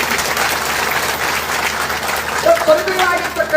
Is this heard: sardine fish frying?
no